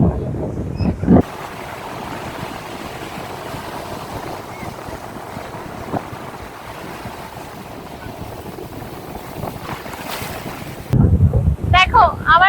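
Sea waves breaking on the shore at RK Beach in Visakhapatnam, a continuous surf roar heavily buffeted by wind on the microphone, with a few voices at the start and end.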